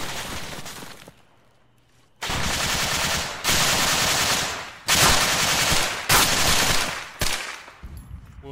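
Automatic gunfire and heavy weapon bursts from the combat game ArmA 3, set in Zargabad: loud, close volleys in several sustained bursts separated by short pauses, with a quiet gap near the start.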